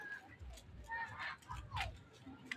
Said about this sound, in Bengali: ফ্রেন্ডস, এগুলো হচ্ছে রাজহাঁস।